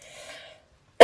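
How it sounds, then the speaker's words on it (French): A woman who is still ill lets out a single short, loud cough, abrupt and close, after a pause that follows faint tonal background sound. "je tousse encore pas mal"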